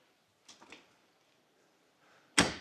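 A Miele dishwasher door in a butler's pantry of a Nashville luxury home: a few soft clicks and handling sounds, then one loud, sharp clunk near the end.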